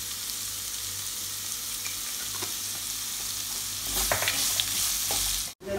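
Onions sautéing in a pan for masala dosa filling give a continuous sizzle with occasional scrapes of stirring, growing briefly louder near the end before a sudden short cutoff.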